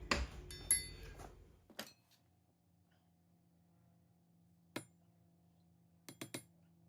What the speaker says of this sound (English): I've got the 2 pivot holes marked, so I'm going to prick punch those right now